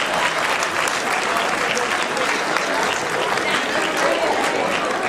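Dense, steady applause from a large audience at an evening poetry recital in Hyderabad, loud and continuous throughout with no break.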